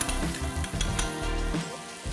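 Chopped onion and roasted garlic sizzle steadily in a pan with a little leftover meat fat, a dense close crackle broken by a few soft scrapes.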